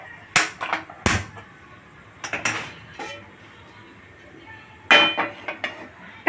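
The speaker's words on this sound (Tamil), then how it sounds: "pan வச்சுக்கலாம்." Metal pans and cookware clatter and clank in a home kitchen while a pan is set on the stove, with several loud bangs in quick bursts and quieter pauses between them.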